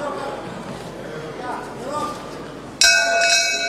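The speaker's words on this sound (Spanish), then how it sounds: "Campana final del tercero." At a boxing match, a bell rings out sharply to end the third round, a bright metallic clang near the end over crowd noise and a commentator talking.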